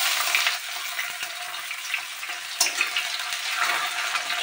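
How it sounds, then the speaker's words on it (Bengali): Onions frying in hot oil with cumin seeds, a steady close broadband sizzle for the whole stretch, with a brief louder flare partway through and no talking. "পেঁয়াজগুলো ভাজা হোক"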